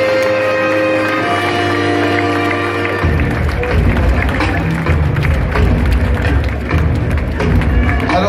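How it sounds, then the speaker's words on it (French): A large stadium crowd at Reims applauds player Henrik Caquin, loud dense clapping and crowd noise starting abruptly after a sustained tone and continuing steadily to the end. "Alors on va l'applaudir"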